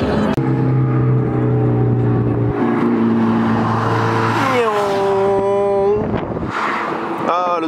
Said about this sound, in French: Ah, le 208 GTI.